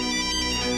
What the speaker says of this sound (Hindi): ये नाहर सिंह का फोन है।